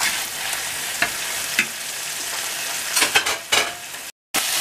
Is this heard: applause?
no